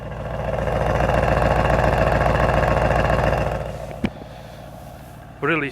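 A 2025 Mercedes-AMG S63 E Performance engine rumbles steadily up close with a deep, throaty sport exhaust note, then settles lower; a sharp click and a brief voice follow.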